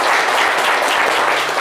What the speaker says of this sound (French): Allez, applaudissements pour les s'il vous plaît.